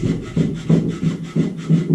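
Quick back-and-forth sanding of a wooden chair part with a strip of sanding belt: about six steady rasping strokes in an even rhythm, close up, with no talking.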